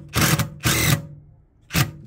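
A power driver sinking a screw into wood for a subwoofer speaker enclosure in a Mercedes-Benz E200 W212, with three short loud whirring bursts separated by brief pauses.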